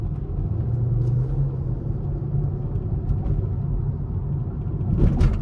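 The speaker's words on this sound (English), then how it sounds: "I'd rather just vibe out and let y'all hear the car." A 5th gen Chevrolet Camaro SS V8 rumbles steadily from the cabin, a low droning engine and exhaust note that holds even throughout and swells slightly near the end, with no talking.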